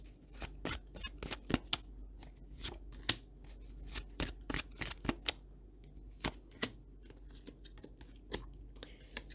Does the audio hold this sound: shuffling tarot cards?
yes